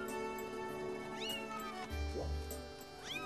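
A game cat in The Legend of Zelda: Skyward Sword meows several times, rising and falling calls at moderate volume over steady background music and game ambience.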